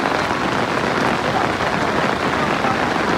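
Steady, dense first monsoon rain drums close on surfaces along a crowded riverbank during fishing, a continuous loud hiss without any talk.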